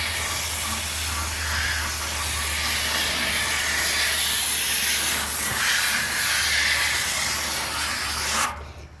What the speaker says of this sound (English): simply wash it out. What you're doing is you're cleaning out these coils.